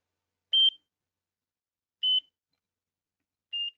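Radio-tracking beacon receiver tones played from a phone: three short, clean high beeps spaced about a second and a half apart, faint, with silence between them.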